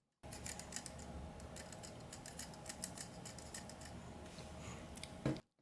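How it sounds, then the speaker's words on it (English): The side buttons of a Finalmouse Starlight-12 gaming mouse rattle as a finger runs across them, making a rapid, close series of tiny plastic clicks and ticks that ends in a brief louder knock. "if I run my finger across, you can hear the click buttons moving around"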